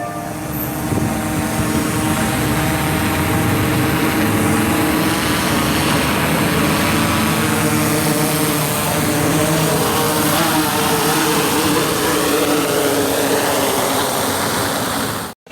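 An Autel Evo 2 Enterprise drone lands on standard propellers, giving a loud, close, continuous propeller whine with shifting pitch that cuts off abruptly at the end.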